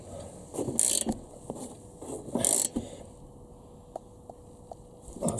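A 17 mm bolt is tightened on the front hub of a Honda Civic EF: quiet ratcheting clicks and metallic mechanism sounds in short bursts, with a few louder scraping clanks, close by and without speech.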